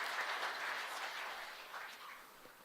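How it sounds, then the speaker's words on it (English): An audience applauds at an awards ceremony with faint, steady clapping that tapers off slightly toward the end. "Let's applaud."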